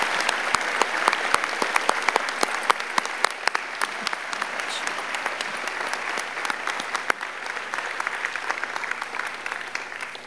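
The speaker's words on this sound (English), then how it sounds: "join me in a big round of applause for all of our outstanding honorees today." Sustained applause from an audience honoring award recipients at a National Philanthropy Day event in Orange County, dense steady clapping at even loudness throughout with no voices standing out.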